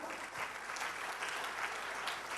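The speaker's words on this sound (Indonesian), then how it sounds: "Tepuk tangan bagi Tuhan." A church congregation applauds during a sermon, a soft, steady wash of many hands clapping, heard quietly and at a distance throughout.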